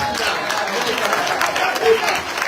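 A church congregation at a French-language service applauds and cheers, steady dense clapping mixed with crowd voices and a few raised shouts, carrying on evenly for a couple of seconds.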